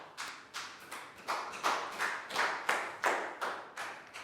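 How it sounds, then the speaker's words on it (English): A class of primary pupils claps for a classmate during a Year 4 maths lesson, a short burst of about eleven rhythmic, fairly quiet claps, close and evenly spaced. "big round of applause for Pat"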